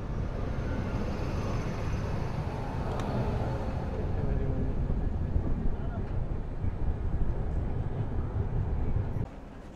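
A WAP-7 hauled train rolls into Yesvantpur Junction in Bengaluru, a loud, steady rumble and rattle of wheels and carriages with wind buffeting the microphone throughout.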